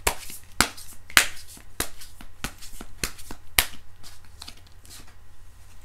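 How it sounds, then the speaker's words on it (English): Tarot cards get a soft shuffle, about eight quick crisp riffles and snaps in an uneven rhythm, close and clear with no talk. "So one more soft shuffle."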